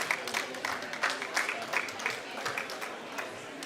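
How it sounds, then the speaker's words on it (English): Audience applause at a faith pavilion climate event at COP29, a steady crowd clapping sustained for several seconds with no voices over it. "So give her a big round of applause."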